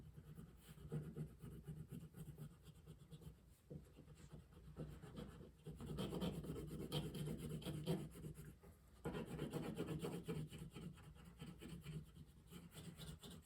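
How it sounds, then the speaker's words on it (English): The side of a crayon colors across paper in a soft, continuous, scratchy rubbing that stays faint and steady throughout, with slight swells in pressure and no voices. "Use the back because I'm going to have a lot to color. So I like to use the bottom of my crayon."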